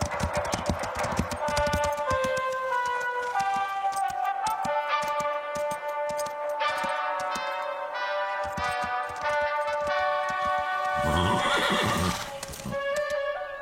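Cartoon horses being trained to get used to music, with busy rhythmic hoof clip-clops and whinnies layered over bright melodic music playing throughout.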